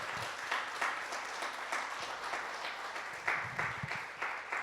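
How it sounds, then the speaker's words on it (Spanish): A church audience applauds for young musicians, with steady, even clapping for several seconds, moderately distant and fairly quiet. "Un aplauso para los chicos."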